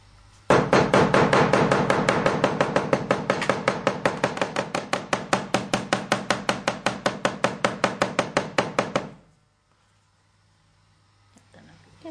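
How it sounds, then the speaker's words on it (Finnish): A hammer rapidly taps a plant leaf onto fabric to transfer its color, a fast, even run of close, sharp knocks lasting about nine seconds before stopping abruptly into near silence. "Seuraavaksi naputtelen vasaralla päältä niin, että lehden väri alkaa imeytyä kankaaseen."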